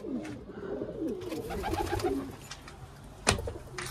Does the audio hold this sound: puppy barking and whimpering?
no